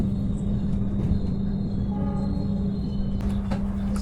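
KA Malabar passenger train standing at Kiara Condong station in Bandung in the morning, a steady loud low rumble and hum of the train with faint tonal whines and brief metallic clanks near the end.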